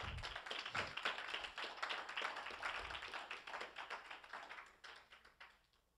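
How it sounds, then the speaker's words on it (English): Church congregation clapping their hands in praise during a service, a quick rhythmic run of claps that is faint and distant, tapering off over several seconds. "Let's give the Lord a hand clap."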